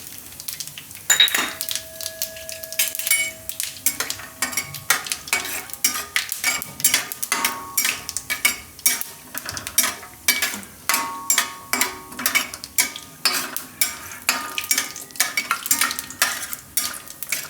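Cashews frying with whole cumin seeds in a pan over low gas, a steady crackling sizzle broken by repeated sharp clinks and scrapes of a spoon stirring against the metal pan.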